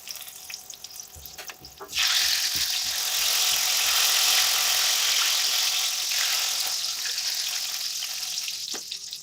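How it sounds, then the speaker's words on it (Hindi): Brinjal slices fry in a pan of hot oil for masala baingan, a loud, steady sizzle that swells abruptly and then holds, with faint clinks and scrapes of utensils beneath. "इसी तरह अब और फ्राई कर लेंगे।"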